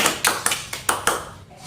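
A small classroom group claps briefly in praise of a student, with about six loose, uneven bursts of hand claps close by in a quiet room, fading out at the end.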